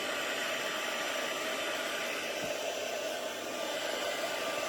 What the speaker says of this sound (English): And then we'll just quickly heat emboss that.